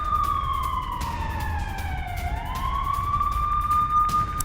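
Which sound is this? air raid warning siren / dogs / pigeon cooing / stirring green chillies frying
air raid warning siren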